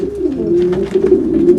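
French meat pigeons cooing steadily at close range, a continuous low throaty murmur with slight rises and falls in pitch, with no speech over it.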